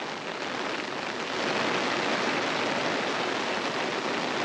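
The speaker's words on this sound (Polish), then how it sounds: "leci ściana deszczu" Dense, roaring rain pours down steadily at a commercial fishing lake in the Netherlands, a heavy wash of noise that swells slightly louder partway through, with wind blending into the downpour.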